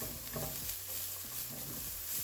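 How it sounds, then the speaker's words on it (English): Parboiled carrots hit a pan of zucchini and set off a soft, steady sizzle with light stirring and a few faint clinks, heard close at low volume with no talking. "to this, we're going to add our carrots, which again have been already parboiled"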